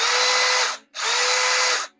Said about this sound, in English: Let's hear it for this drill. Wow, it's singing.